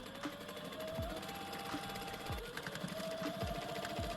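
A domestic sewing machine top stitching a seam on a denim jacket, running continuously with a steady mechanical hum and rapid needle rhythm, close and fairly quiet.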